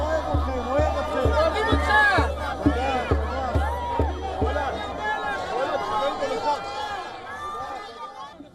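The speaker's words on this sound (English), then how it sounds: "freed hostage Avinatan Or was welcomed home by a jubilant crowd" A jubilant crowd welcomes home a freed hostage, a dense babble of cheering voices with rhythmic thumping claps or beats early on, then excited chatter and shouts that stay loud and close before easing slightly.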